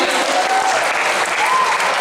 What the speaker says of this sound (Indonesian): Tepuk tangan untuk empat orang ini sekali lagi